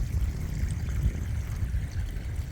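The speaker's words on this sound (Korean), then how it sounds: "저 위에서 지금 흘러내리는 물이 물소리가 날 정도로 이렇게 많이 흐르고 있거든요." Heavy rainwater running down a drainage ditch beside a farm field after a day of downpour, a steady close gurgling flow with low churning water.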